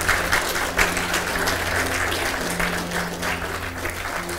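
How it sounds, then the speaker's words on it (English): Audience applause in a church service, a steady, fairly loud spread of many hands clapping together over a low room hum. "Let's clap for these two gals."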